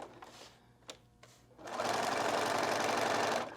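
A sewing machine stitches a Kraft-Tex notebook cover, running in one steady fast whirring burst of close, loud stitching after a few quiet handling clicks and rustles.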